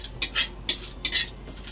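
Bay leaf, cinnamon, cardamom and cloves stirred in hot ghee: a few quick metal-on-pan scrapes and clinks from a spoon, close and distinct, with no talking.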